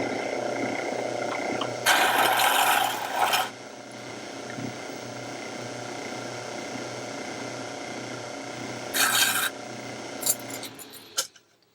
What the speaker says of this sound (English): we have our deburring brush here, and we simply just brush the key a little bit.